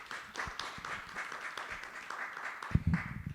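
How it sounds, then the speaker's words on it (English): Applause for three panelists at the close of a conference panel session on central bank digital currency, a steady audience clapping of moderate loudness that swells briefly near the end. "please give three panelists a big applause"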